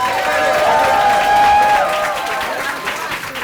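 An audience at an awards ceremony applauds Congresswoman Barbara Lee, a steady wash of clapping and crowd cheering that holds for several seconds, with a voice faintly audible over the noise.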